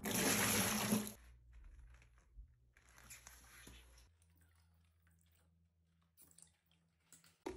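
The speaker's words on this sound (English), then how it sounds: "6 cups of hot water." Hot water is poured to clean grout sponges, opening with a loud, splashy gush for about a second, followed by quieter scattered sloshing and drips.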